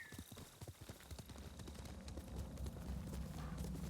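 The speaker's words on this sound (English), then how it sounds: "This is Kage, my horse" A horse gallops in the video game Ghost of Tsushima, with a steady, rapid clip-clop of hooves that continues without pause throughout.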